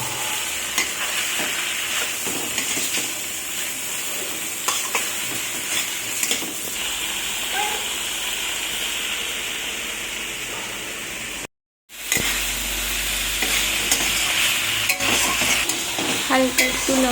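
Fried chicken is stir-fried with long beans and cabbage in a pan, giving a loud continuous sizzle with repeated scraping stirs. There is a short silent break, then the frying carries on.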